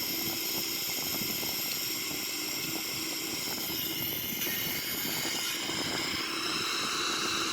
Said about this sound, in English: here we are, climbing out of the airport, the runway, 14.